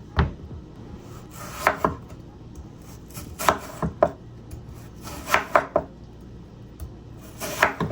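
A knife chops a tomato on a cutting board, giving sharp, close taps in small irregular clusters separated by brief pauses, with nobody speaking.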